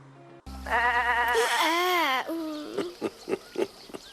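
A goat lets out one loud, long, wavering bleat close by, followed by a few shorter, softer sounds.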